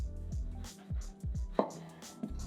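A knife cuts a grapefruit in half on a board, a few soft close thuds and a brief crisp slice, quiet with low background hum.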